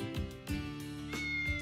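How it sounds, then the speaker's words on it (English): A cat in the video game Like a Dragon: Ishin gives a series of meows, several short mews in a row over soft game music. "Look, you can play with kitties and doggos."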